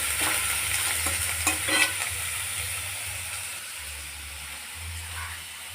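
Potatoes and pointed gourd fry in a pan with black cumin, green chilli and a little chopped onion, giving a steady close sizzle broken by brisk stirring scrapes, with no talking.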